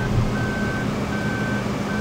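A vehicle backing up in Farming Simulator 2015, its reversing alarm sounding as evenly spaced high beeps over a steady, low engine drone.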